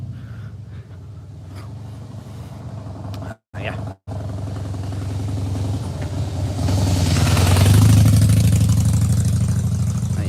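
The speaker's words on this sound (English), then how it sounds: "I think there's a motorbike coming." A motorbike rumbles nearby, its low engine hum idling before swelling louder as it draws closer, with a person briefly speaking over it.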